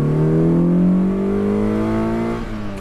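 A Mazda MX5 or Lotus Elan sports car pulls hard under acceleration, its engine note climbing steadily in pitch over a few seconds, loud and close, with no talk over it.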